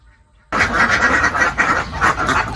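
A flock of about two hundred ducks on a duck farm quacks loudly and continuously after a quiet start, a dense overlapping chorus of nasal calls close by.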